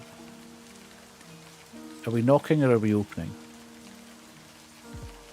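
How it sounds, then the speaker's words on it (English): Steady rain patter from the video game Livber, a soft continuous wash running beneath a spoken question in the middle and a tonal game hum throughout. "You shouldn't stay out in the rain any longer now."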